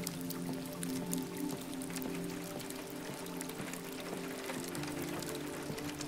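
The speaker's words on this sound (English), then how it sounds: "Oh, the sound of the rain is so calming." Rain in the video game Detroit: Become Human, quiet scattered drips and splashes over a constant low drone, an even, calm patter with no talking.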